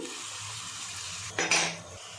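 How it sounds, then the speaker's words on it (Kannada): Cooked potato, peas and carrot tipped into poha in a pan and stirred, a steady low sizzle under a brief louder clatter and scrape of a spoon against metal near the end. "ಇಲ್ಲಿ ನಾನು ಆಲೂಗಡ್ಡೆ, ಬಟಾಣಿ, ಕ್ಯಾರೆಟ್ ಹಾಕಿದ್ದೀನಿ"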